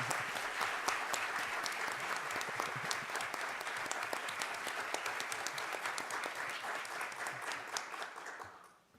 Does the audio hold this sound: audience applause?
yes